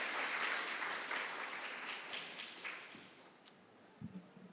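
Audience applause at a data conference fills the room after a presentation, dense and steady at first, then gradually thinning and fading toward a few scattered claps.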